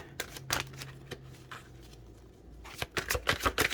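Tarot cards shuffled by hand in a run of crisp riffling and flicking bursts, close and fairly loud, with short pauses between shuffles and no talk.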